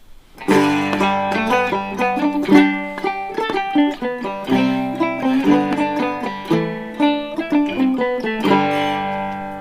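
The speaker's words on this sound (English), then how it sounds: "Let's first see how this thing sounds on clean tone." A plucked cigar box guitar with a P90-style soapbar pickup played with a clean electric tone, bright ringing notes and chords in a loose rhythm, close and solo with no voices.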